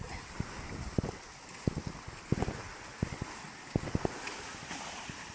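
Strong wind blows steadily at the seashore near an old unused boat, a continuous broad rush with scattered sharp knocks and thumps against the microphone.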